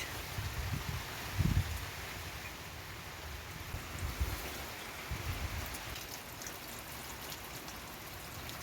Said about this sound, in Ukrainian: Ось такий тут дощ.